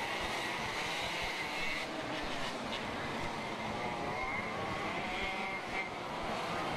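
Racing karts at the Singapore Karting Championship, Masters class, droning steadily through a warm-up lap, a continuous buzzing engine wash that rises and falls slightly as the pack circulates, moderately loud with no talk.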